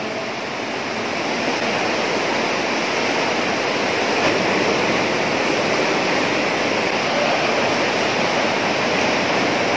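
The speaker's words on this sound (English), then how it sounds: "So we're here in the underground river." Water rushes steadily through an underground river cave in the Philippines, a dense, loud and unbroken roar with no voices over it.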